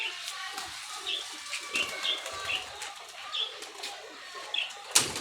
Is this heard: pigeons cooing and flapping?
yes